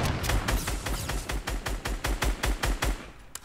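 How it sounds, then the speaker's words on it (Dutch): Video game gunfire rattles in a rapid volley of sharp, evenly spaced shots, a dozen or more bursts in quick succession, loud and steady across the whole stretch. "ik hoor heel veel schoten hier beneden"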